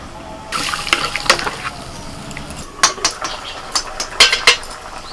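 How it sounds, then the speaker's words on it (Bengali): Water is poured into a pan of lightly fried vegetables, including cauliflower stalks, for a sour curry. Gushing splashes come in several bursts against a hissing background, and a few clinks follow. "হালকা করে ভেজে আমি জল দিয়ে দিচ্ছি"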